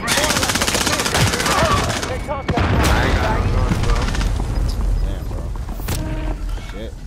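Rapid gunfire in a first-person shooter game rattles in dense bursts, loud and close, with sharp single shots and a heavy boom mixed in under excited player talk.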